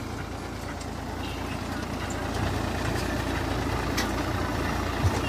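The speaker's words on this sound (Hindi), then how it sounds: "महिंद्रा 265 1998 मॉडल जो अभी गुआर की बिजाई कर रहा है।" A 1998 Mahindra 265 DI tractor sowing guar with a seed drill chugs at a steady low rumble, its engine growing slightly louder midway, with a brief clank near the end.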